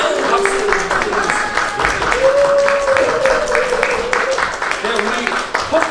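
An audience at a Korean art and history lecture applauds to welcome the speaker, with steady, loud clapping and a voice talking over it throughout.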